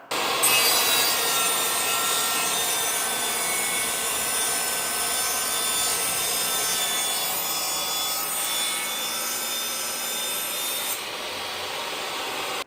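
A power saw cuts through vinyl plank flooring at close range, a loud, sustained whining rasp that holds steady for about ten seconds and then drops off. No one speaks over it.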